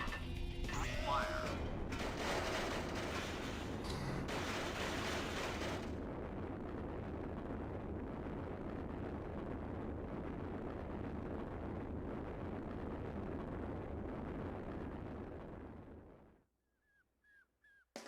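A video game missile launch and explosion produces a loud, sustained roaring blast with heavy rumble for about sixteen seconds, then it fades to near silence with faint chirps at the end.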